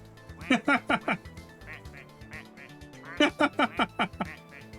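Ducks quack at a pool in two quick, rhythmic bursts of four or five loud, nasal calls, separated by a short pause with softer calls in between.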